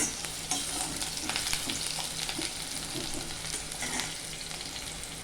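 Onions sauté in hot oil toward golden brown, a dense continuous sizzle with intermittent stirring scrapes, close and without any voices.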